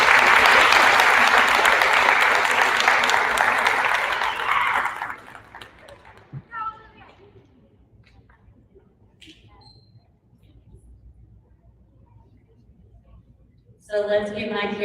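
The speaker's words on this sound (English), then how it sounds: "let's give my character award winners a round of applause" An audience at a school awards assembly gives a loud, dense round of applause that lasts about five seconds and then fades into near silence before a voice starts speaking.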